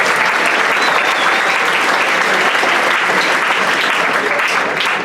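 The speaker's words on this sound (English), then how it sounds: "please give the Latinos Unidos Club officers a big round of applause" A school assembly crowd applauds club officers with loud, dense, sustained clapping that fills the room evenly without pause.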